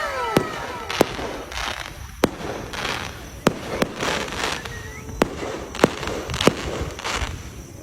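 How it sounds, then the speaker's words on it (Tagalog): Fireworks burst over a city at night, heard from a rooftop deck as a string of about ten sharp cracks at irregular intervals, each followed by a fainter crackle, set against a soft wash of background noise. "good timing pa nga kasi merong fireworks"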